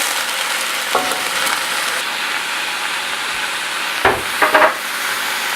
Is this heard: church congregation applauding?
no